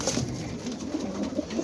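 Two old male pigeons fighting hard over nests in a breeding loft, with continuous low cooing and short bursts of scuffling and wing movement that stay fairly close and moderately loud.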